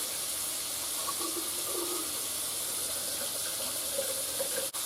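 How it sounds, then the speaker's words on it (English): Water runs steadily from a faucet through a newly repaired pipe under a sink, giving a soft, even hiss and trickle that stays faint and constant with no talking. "Now we should be able to run the water and have no leaks."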